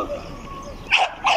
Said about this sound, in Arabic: نشوفوا الكلب ديال الحراسه